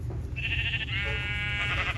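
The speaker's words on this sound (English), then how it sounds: "This is a black sheep." A black sheep bleats in the Minecraft video game, one drawn-out wavering bleat over a low steady background hum.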